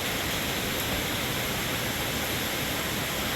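Steady broadband patter of rain falling on and dripping around an open-top golf cart on a cave nature trail, a continuous hiss with no voices.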